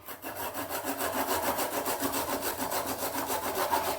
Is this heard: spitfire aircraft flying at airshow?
no